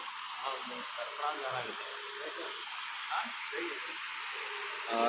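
Steady rain pours over Rajeshwar village in Basavakalyan taluk, a dense continuous hiss that holds at the same level throughout, with voices talking faintly underneath.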